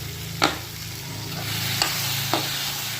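Tomato, curry leaves and coriander leaves sautéing in a pan for a simple chicken curry, a steady close sizzle with three sharp spatula knocks against the pan.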